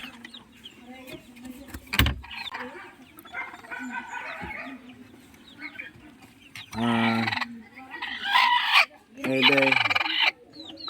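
Chickens cluck on and off nearby, with several loud crowing calls from roosters in the second half and faint voices in the background.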